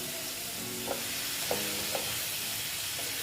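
A spice masala for an egg curry fries quietly in a pan after a splash of water, giving a soft, steady sizzle with a few light clinks of a spoon stirring.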